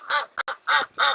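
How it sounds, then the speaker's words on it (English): Khaki Campbell and Swedish ducks quack in a short series of four or five nasal calls, clear and fairly loud with no talk over them. "the ducks that you hear up quacking in the distance, they are the khaki Campbells and the Swedish"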